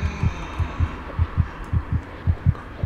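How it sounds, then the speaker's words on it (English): Pounding heartbeat in the video game Among The Sleep, a steady run of deep double thumps about every half second, loud and close over a low droning ambience, with no voices. "Why is my heart pounding?"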